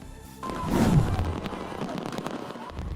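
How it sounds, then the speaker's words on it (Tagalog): A loud burst of New Year's Eve countdown fireworks booms and crackles, then a dense, rumbling spray of pops and explosions continues steadily. "Nagliwanag ang kalangitan sa pagsabog ng fireworks display"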